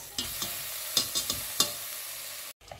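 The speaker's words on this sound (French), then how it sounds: "Il faut bien mélanger parce que les lentilles rouges" A spoon stirs red lentils in a soup pot in several brisk scraping strokes over a faint background sizzle, then the sound cuts off abruptly.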